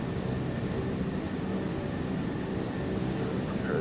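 Douglas DC-3 piston engines on final approach for an ILS landing in Microsoft Flight Simulator, a steady, even drone with a faint high whine above it, constant in loudness throughout.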